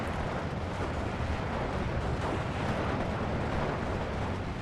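Artillery fire support in a Steel Division 2 battle: a steady, dense rumble of distant shelling and blasts rolls on without break at moderate loudness, with no voices over it.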